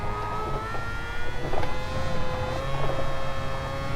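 Mazda RX-Vision race car accelerating out of a slipstream in a racing video game, a steady engine whine rising in pitch under continuous rumble with brief swooshes of nearby cars.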